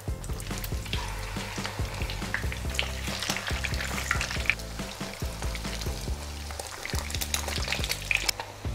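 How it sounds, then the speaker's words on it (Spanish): Pieces of leche frita frying in hot oil in a pan, giving a continuous dense crackle and sizzle with rapid pops and occasional louder spits, close and steady throughout. "cuando el aceite esté ya bien caliente se va dejando la leche frita en la sartén"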